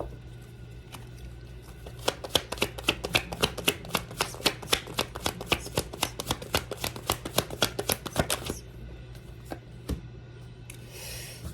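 Tarot cards being shuffled by hand, a fast run of crisp flicking riffles that rattles on steadily for several seconds, then a few scattered taps and a soft rustle near the end, close and with no talking.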